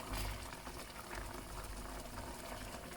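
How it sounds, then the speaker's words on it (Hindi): Melon for halwa cooking in butter and its own released water in a covered pan, a soft continuous bubbling simmer that stays fairly quiet and even, with no voices. "ये इस तरह से बटर के फ्लेवर में ये पक रहा है"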